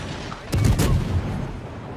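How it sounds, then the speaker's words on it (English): A warship fires a salvo in the naval game World of Warships as one heavy booming blast with a rumbling tail. It stands out clearly over the steady background noise of the game. "I do fire 2 insurance shots just in case the first one missed"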